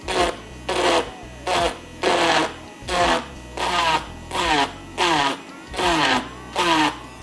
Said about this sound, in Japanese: でこのドリルで傷を少し整えます。